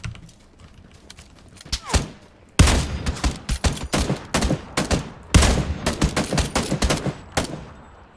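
Rapid bursts of gunfire in the video game PUBG, loud and close, with dense clusters of sharp shots repeating through the stretch after a quieter opening; no clear talk over it.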